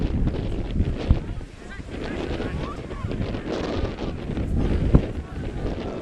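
Strong wind buffets the microphone at an outdoor ultimate frisbee final in very windy conditions, gusting and rumbling throughout with a couple of sharp thumps, under faint background voices.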